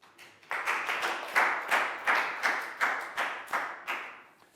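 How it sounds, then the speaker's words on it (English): Rhythmic group clapping in a Year 4 English classroom, about ten even, evenly spaced claps in unison, moderately loud and close, with no talk over it. "Big round of applause"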